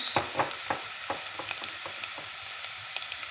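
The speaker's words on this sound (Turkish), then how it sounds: "şöyle terletiyoruz. Çok kavurmuyoruz." Onions for a börek filling sweat gently in a pan, a soft steady sizzle with scattered stirring clicks and scrapes, close and moderately quiet, with no talking.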